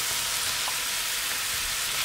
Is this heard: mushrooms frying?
yes